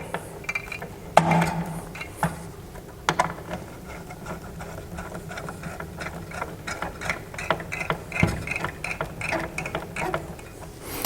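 During a PC build, screws are tightened in a cross pattern, likely on a CPU cooler. Close, repeated ratcheting clicks and small metallic turns come in short bursts with brief pauses, and no one speaks.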